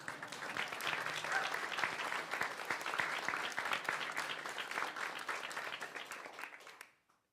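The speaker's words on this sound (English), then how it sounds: "Insert applause." Applause at a Wisconsin state budget signing event fills the room for about seven seconds, dense and steady, then stops abruptly.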